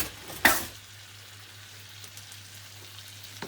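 Mackerel fillets frying in a pan: a sharp spatter burst at the start, then a quiet, steady sizzle under a low hum, with faint crackles continuing.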